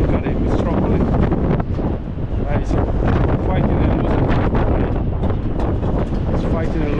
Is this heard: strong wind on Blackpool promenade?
yes